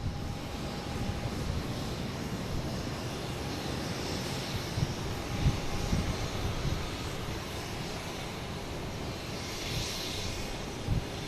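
A Southwest Boeing 737-800 jet, flight 754 bound for St. Louis, roars steadily at an airport as a broad, continuous engine rumble with a faint whine, holding fairly level throughout with no voices.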